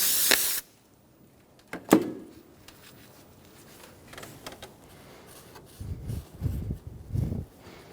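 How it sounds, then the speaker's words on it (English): A can of brake parts cleaner gives a short, loud, forceful spray hiss onto a clean rag during an oil cooler housing replacement on a 2012–2020 Chevrolet Sonic, followed by quieter rubbing and handling noises. "Using a clean rag with some brake parts cleaner,"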